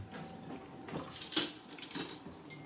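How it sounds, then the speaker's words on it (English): Tamari marinade stirred briskly in a bowl, with irregular clinks and scrapes of a utensil against the dish, a sharper knock near the middle, close and moderately loud with no speech. "now you just mix it really well"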